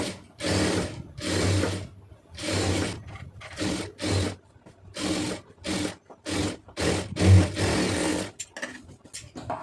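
Sewing machine stitching around the neckline of a lined blouse: repeated bursts of whirring motor and rapid needle clatter, each a second or so long, separated by short pauses, close and fairly loud with no talk.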